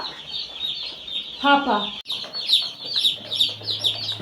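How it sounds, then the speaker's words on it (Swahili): Day-old chicks peep constantly inside a delivery box on a farm, a dense chorus of high, rapid chirps, with someone speaking briefly in the middle. "Sasa ndio nataka ku-unbox hizi vifaranga."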